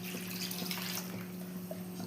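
Water, including mutton cooking water, pours steadily into a pot of rice for biryani, a continuous splashing wash with a low hum underneath.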